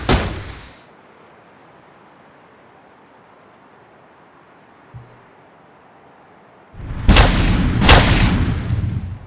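Cannons fire in the mech roguelike game Death Ring: Second Impact: a short booming blast at the start, near silence, then a loud, sustained burst of heavy cannon fire toward the end.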